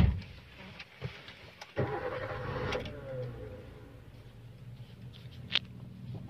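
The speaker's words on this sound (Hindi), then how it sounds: "ये गाड़ी है स्टार्ट" A second-hand 2013 Maruti Suzuki Swift Dzire petrol car with 85,000 km fires up after a brief crank, then settles into a steady, moderately quiet idle heard close by, with no speech over it.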